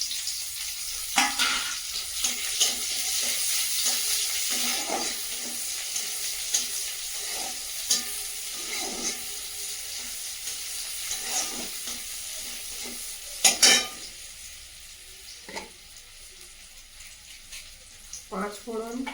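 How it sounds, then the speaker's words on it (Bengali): Onion, garlic and panch phoron spices fry for dal in a pan, a steady sizzle broken by intermittent spatula scrapes and clatter, with a voice speaking briefly at times. "সব মশলাগুলো ভাজা হয়ে গেছে"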